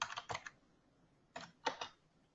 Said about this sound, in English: Let me type in